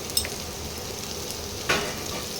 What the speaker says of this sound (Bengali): এবার এই রসুনটাকে একটু ভাজা ভাজা করতে হবে। এবার তার মধ্যে দিয়ে দিলাম একটা টমেটো কুচি।